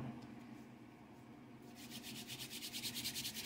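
Soft, rhythmic rubbing of oil over hands during a new moon friendship spell, a faint low hush at first, then steady brisk strokes growing louder toward the end.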